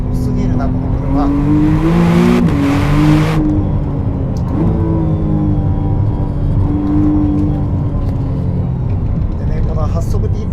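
A 2025 McLaren Artura sports car with an eight-speed transmission is driven hard downhill on a winding, half-wet road. Its engine hum rises and falls steadily throughout, with someone talking over it.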